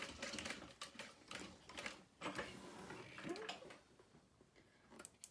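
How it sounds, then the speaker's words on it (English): A sewing machine slowly backstitches near the bottom of a bag seam, giving a steady run of rapid mechanical stitching clatter with small bursts and pauses, close and moderately loud. "we're getting close to that bottom, so we're just gonna slowly backstitch"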